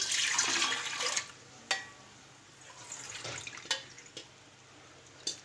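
Water pours into a pot of wheat extract for making kurdai, with a splashing rush that stops after a second, followed by a few scattered drips and clinks in a quiet room.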